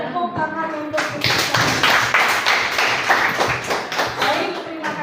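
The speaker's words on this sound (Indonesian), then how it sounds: "Tepuk tangan untuk kita." A group claps together at a teachers' forum, starting with a few scattered claps and then swelling into a burst of rapid applause that runs steadily to the end, with a voice heard briefly at the start.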